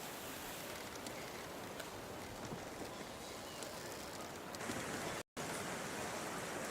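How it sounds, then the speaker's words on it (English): Steady rain falling in The Thaumaturge, a dense even hiss of drops that holds throughout with one brief cut to silence near the end, no voices. "And now it starts to rain."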